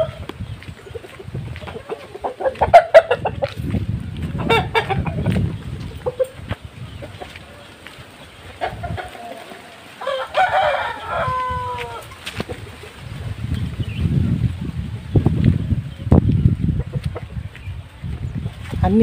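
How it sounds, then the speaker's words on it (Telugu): Fighting roosters at a rural cockfighting breeders' yard cluck, crow and squawk in a restless series of close calls, mixed with scuffling and background noise, with occasional voices. "అన్నీ రెడీ టు ఫైట్ ఉంటాయన్న కోళ్ళు"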